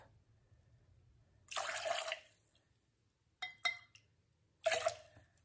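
Pomegranate juice poured into a glass for a cocktail: three short pours with a splashing trickle, the first about half a second long and the last two shorter, close and quiet, with near silence between them.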